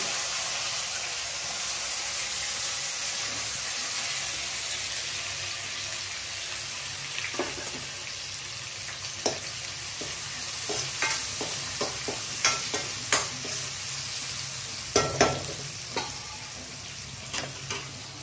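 Cumin seeds, curry leaves, onion and green chili fry in a pan for a dried-fish and brinjal curry, a steady sizzle with clusters of sharp crackles and pops growing more frequent toward the end, no voices.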